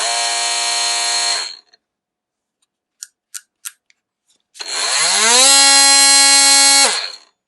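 A Seyvum brushless oscillating tool runs twice with a steady high-pitched buzzing whine, starting and stopping cleanly, with a few faint clicks in the quiet gap between the two runs.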